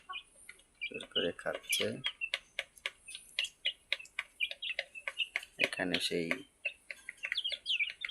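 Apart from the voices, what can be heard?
desi chicks and hens chirping and clucking while eating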